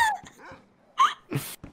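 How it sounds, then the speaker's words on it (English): Dog in the survival video game DayZ on the Namalsk map, giving a few short barks and whimpers close by, alone without talk. "Oh, there's a dog here."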